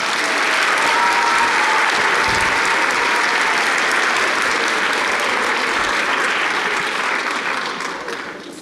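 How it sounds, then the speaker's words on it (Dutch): Sustained applause from a large audience of children and parents at a children's university lecture, loud and even throughout, gradually tapering off at the end. "dan een heel groot applaus alsjeblieft"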